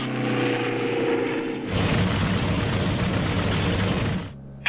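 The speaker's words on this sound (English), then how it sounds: "each Zero just breaks off after its firing run and climbs up to a higher altitude" A Mitsubishi A6M Zero fighter climbs after a firing run, its propeller engine droning at a moderate level, then surging into a loud, broad roar for a few seconds before it cuts off abruptly.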